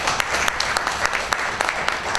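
Panelists at a parliamentary session on the SDGs and gender equality get a round of applause from the audience, steady scattered clapping with sharper individual claps standing out, moderately loud and fairly close.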